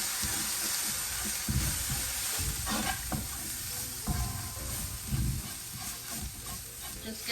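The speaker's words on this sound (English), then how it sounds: "just give it a fry for a minute" Curry powder and green seasoning frying in a pot for a Guyanese stuffed bitter gourd and chicken dish, a steady hissing sizzle with several scraping stirs of a spoon, close up.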